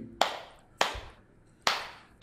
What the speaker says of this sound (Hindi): इसके सामने ताली बजाकर देखिए